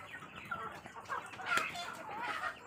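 Free-range village chickens on a poultry farm clucking softly nearby, a few overlapping calls rising and falling over a quiet background.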